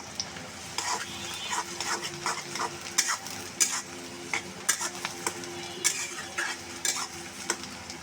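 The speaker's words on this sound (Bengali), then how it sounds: "সরষা তেলে ফেনা উঠে গড়ে গেছে পেঁয়াজটা আমি ভেজে নিই" Onions and green chillies fry in foaming mustard oil with a loud, steady sizzle. A utensil stirs rhythmically and clanks against the pan now and then; nobody talks.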